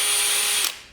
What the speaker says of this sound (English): we're gonna clean up these edges, little brush sander, little drill with a wire wheel